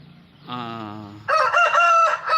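A fighting rooster crows loudly and close, a drawn-out harmonic call that rises into a strained, higher-pitched final stretch.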